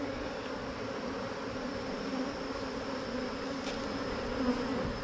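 Honeybees buzz steadily in an open hive packed with brood. The hum is a continuous, close drone that holds even in level for the whole stretch, with no talking.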